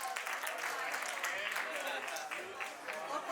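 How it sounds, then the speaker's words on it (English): Wedding reception guests applaud the newlyweds on stage, dense steady clapping from a crowd throughout, moderately distant and fairly quiet. "How about a big round of applause for this couple right here?"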